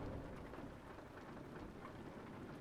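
Steady rain hissing throughout, with a low rumble of thunder underneath, in the truck-driving game Euro Truck Simulator 2 on an Alpine route near Switzerland. Faint and continuous, no voices.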